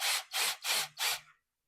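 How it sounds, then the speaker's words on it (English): A cordless drill with a brad point bit bores a hole in wood in four quick, even rasping bursts. The sound is close and alone, and it stops abruptly into silence. "I'm going to drill a hole to get started"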